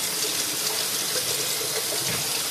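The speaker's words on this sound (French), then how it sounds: "je laisse couler un petit peu l'eau froide" Cold water runs from a kitchen tap into a sink in a steady, even hiss-like gush, close and continuous for the whole stretch.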